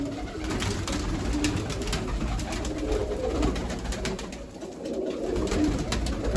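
Pigeons kept in a loft with perching rods coo continuously, a steady murmur of overlapping low calls close by, with no talking.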